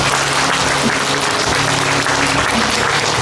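A large crowd applauds a city mayor at a year-end thanksgiving gathering at Bohyeon Seonwon, a dense, loud, sustained wash of clapping that holds evenly for the full length.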